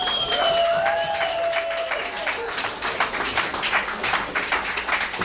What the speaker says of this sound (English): Can we actually have one more round of applause?